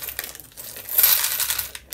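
Large beads tumbling and being mixed together by hand, a close burst of hard clattering and rattling clicks that swells in the middle and trails off into scattered taps.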